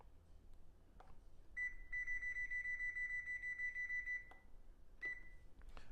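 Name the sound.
kitchen timer alarm beeping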